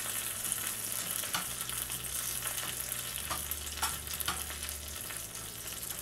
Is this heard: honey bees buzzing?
no